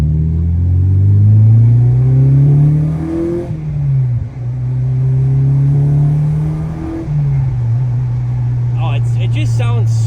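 Acura RSX Type S with a new exhaust, engine not yet fully warmed up, drives steadily with a smooth, deep low drone, easing off and picking back up twice in gentle throttle swells, close and fairly loud.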